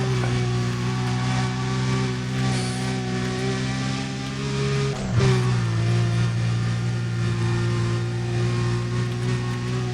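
A car accelerates in Need for Speed: Undercover during a sprint race, its engine droning steadily with a rising pitch, a brief shift or bump midway, then climbing again, loud and close.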